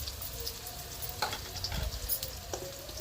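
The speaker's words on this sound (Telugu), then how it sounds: "చూడండి ఫ్రెండ్స్, పచ్చిమిరపకాయలు, ఎర్రగడ్డలు అయితే వేగినాయి కదా" Green chillies and onions frying in oil with ginger paste for biryani, a steady close sizzle with a few sharper crackles and stirring scrapes, no voices.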